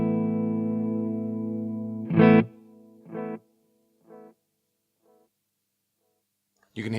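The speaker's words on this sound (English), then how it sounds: "This is the tape delay." An electric guitar runs through the tape delay of a Marshall MG50CFX amp, a sustained tone giving way to a stabbed note whose repeats fade and grow duller, then a fresh strum at the end.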